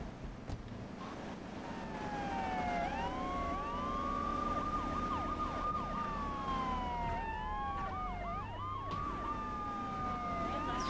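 Police car sirens in the video game GTA III wail and yelp loudly over a rumbling engine and traffic backdrop, several overlapping siren tones rising and falling continuously throughout.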